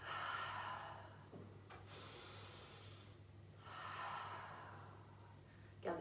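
Soft breathing during a Pilates session, with two long airy exhales around a quiet, steady low hum and no talking.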